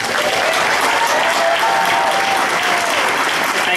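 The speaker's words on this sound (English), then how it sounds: "if you wouldn't mind giving them a round of applause too" Convention crowd at a Fan Expo Vancouver panel applauding the cast, a dense, steady wash of clapping that fills the whole stretch at close range, with no voices over it.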